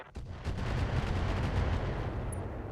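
Heavy weapon shot fired in RogueTech BattleTech at a multi-purpose VTOL: a sharp loud report followed by a long rumbling, booming tail that rolls on for a couple of seconds, with no talking.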